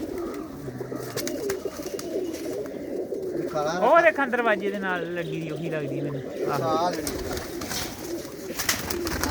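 Pigeons in a Lambu Mahmoodpur loft in Punjab keep up low, rolling coos nearby while someone talks over them through the middle stretch, the birds' calls continuing before and after.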